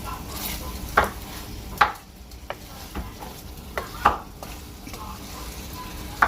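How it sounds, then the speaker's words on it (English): Sausage and vegetable fried rice cooks in a pan with a low sizzle, broken by sharp clinks and scrapes of a utensil against the pan at irregular moments. "As you can see, I have just added the sausage. I'm going to make sure everything cooks nicely."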